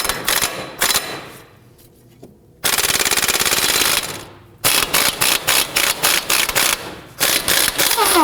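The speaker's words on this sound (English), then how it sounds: "Now using a 30mm socket, we're going to loosen and remove the axle nut." Loud, rapid bursts from an impact wrench driving a 30mm socket on the front axle nut of a 2005-2009 Subaru Legacy 2.5L, several hammering runs separated by short pauses, close and harsh, with no talk.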